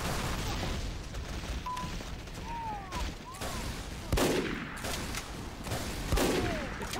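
Gunfire in a shooter video game, repeated rapid bursts of shots with occasional louder booms over busy game noise.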